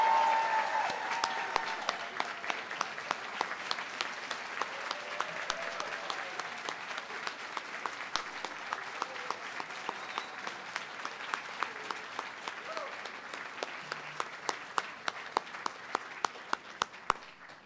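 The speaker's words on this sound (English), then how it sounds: "Let's give them all a big round of applause." Sustained applause from a sizable crowd at a university honors college graduation celebration, steady dense clapping that fades slightly over time with a few sharper individual claps standing out.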